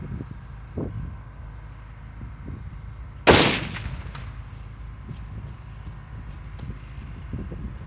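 A single sharp rifle shot at about three seconds, loud and close, with a brief rolling echo trailing off across open ground against a low wind rumble, fired at a distant long-range target.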